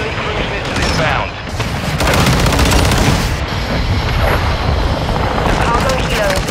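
Call of Duty: Modern Warfare 2 multiplayer battle with heavy booms and rumbling blasts mixed with bursts of gunfire and a hovering aircraft drone, loud and continuous throughout.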